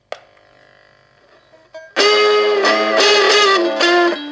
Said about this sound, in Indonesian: Nah kita coba untuk menyalakan efek distorsinya